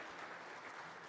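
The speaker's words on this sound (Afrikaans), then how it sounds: "kom ons gee vir hulle baie groot hande klap" Congregation applauding during a church service, a steady wash of many hands clapping throughout, fairly faint and with no voices over it.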